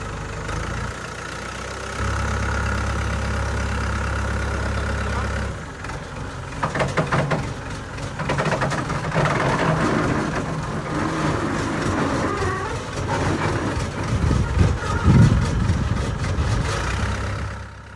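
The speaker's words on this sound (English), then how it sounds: "The accelerator of the backhoe is broken and the guys have to control it by using the brakes." A backhoe with a broken accelerator, slowed only by its brakes, rumbles and creaks steadily at close range, with a low engine drone, repeated mechanical squeaks and clanks, and a louder scrape near the end.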